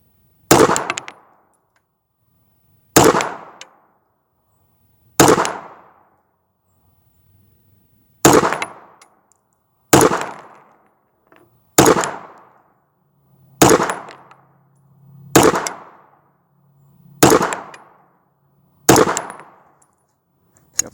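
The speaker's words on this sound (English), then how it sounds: "So now I'm going to shoot at the target dot" A High Point C380 pistol fires nine sharp, loud, close shots at a target at 19 yards, spaced about two seconds apart, each with a short ringing decay.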